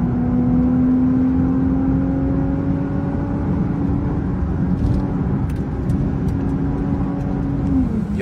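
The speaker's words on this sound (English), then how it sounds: "Look at that downshift down." Lexus IS350 with a loud exhaust, heard in night-time driving during a downshift, a steady loud engine drone with a sustained tone that shifts in pitch, close and continuous.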